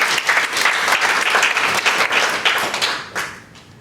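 Audience giving a round of applause at a coaching and networking event, dense steady clapping throughout that thins and fades over the final half second.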